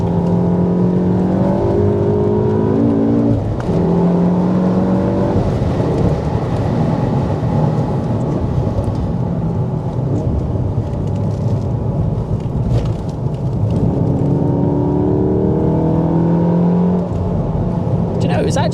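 Recorded from inside a 500 bhp BMW M140i or MK7 Golf R at full throttle on a racetrack, the engine screams loudly and continuously, climbing in pitch to the top of third gear with brief dips at the shifts.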